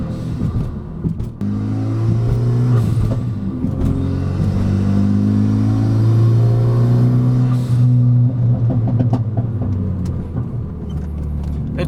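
A Renault Megane RS RB8 with a straight-pipe stainless steel exhaust drives hard through canyon roads, its engine droning and surging through the revs, with scattered crackles and pops from the exhaust, loud and continuous.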